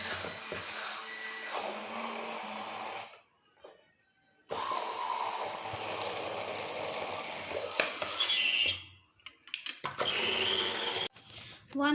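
An electric mixer whirs steadily as it blends homemade cake batter for a microwave fruit cake, a continuous buzzing drone that cuts out in a few short pauses and then starts again.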